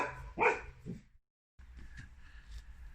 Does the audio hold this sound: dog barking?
yes